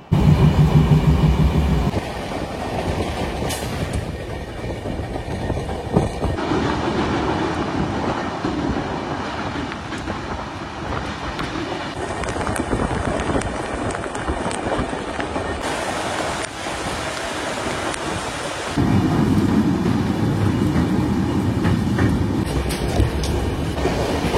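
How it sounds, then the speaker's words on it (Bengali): Howrah Barbil Jan Shatabdi Express running on the rails, a steady loud rumble and rattle of the carriage throughout, with a heavier low-frequency roar at the start and end. "আমরা জার্নি করছি হাওড়া বারবিল জনশতাব্দী এক্সপ্রেসে, আর ওদিকে বেরিয়ে যাচ্ছে হাওড়া টাটানগর জনশতাব্দী এক্সপ্রেস"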